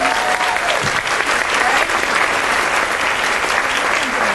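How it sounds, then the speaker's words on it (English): Conference audience clapping throughout, a dense, steady and loud wash of applause from a large crowd with faint voices mixed in. "Give yourself a round of applause for being here today."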